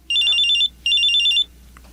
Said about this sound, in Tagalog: Nag-ring yung cellphone ko.